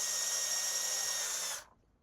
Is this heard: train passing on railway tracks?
no